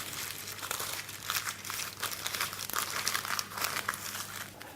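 Paper is crumpled and crinkled close up while a paper circle is being shaped for baking a lemon tart, with dense, crackling rustles throughout.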